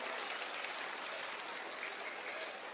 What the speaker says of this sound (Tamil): எவ்வளவு கைத்தட்டல் வருது பாருங்க